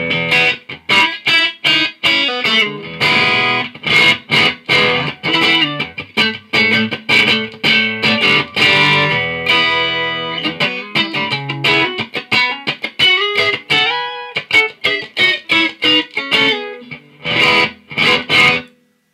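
Distorted electric guitar through a Bugera V55 amp head, with mids, treble and bass set at noon, playing loud, choppy chords and riffs with short pauses between phrases.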